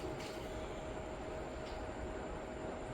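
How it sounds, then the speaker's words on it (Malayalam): A toy train runs around its track indoors, giving a faint, even whirring rumble with a thin steady whine and no clear breaks or voices. "അതായത് എങ്ങനെയാണത് ഓടുന്നത് എന്നുള്ളത് നോക്കാം."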